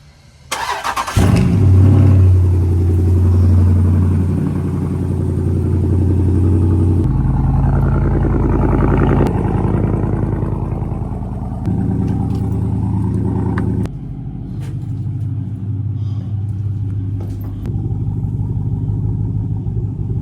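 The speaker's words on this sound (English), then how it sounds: "Do a little cold start" A straight-piped Dodge Durango SRT fires up on an early-morning cold start, a loud deep burst settling into a heavy, rumbling high idle with a few blips and dips, close and unaccompanied by talk.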